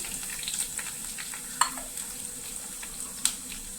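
Curry leaves, garlic and ginger sizzle in hot coconut oil for a Kerala-style fish curry, a steady close crackle with a few sharp spatters and faint stirring.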